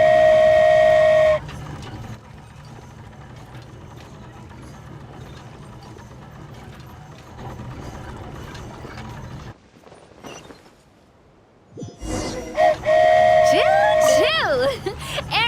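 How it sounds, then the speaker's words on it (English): The flying Aerial Express train in Genshin Impact departs with a loud steam-whistle blast, then a steady mechanical rumble and clatter, a brief lull, and another whistle with rising tones. A voice talks over parts of it. "Choo-choo! Aerial Express moving out."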